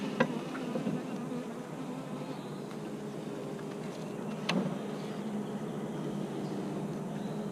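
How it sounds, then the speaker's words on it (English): Bees buzz at a long hive during beekeeping work, a quiet, continuous droning hum with a couple of brief sharper sounds along the way. "Looks like we did get a bee."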